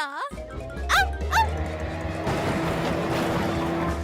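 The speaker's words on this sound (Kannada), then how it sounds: "ಈ ನಾಯಿ ಇವತ್ತು ನಮ್ಮನ್ನ ಬಿಡೋದಿಲ್ಲ ಅನ್ಸುತ್ತೆ ಕಣೋ." A dog barks a few times near the start, sharp yelps, then a steady engine-like drone with background noise takes over.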